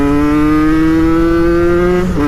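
A Peugeot NK7 motorcycle engine runs loud and close with a steady, buzzing tone that rises slightly as it revs, then dips briefly near the end.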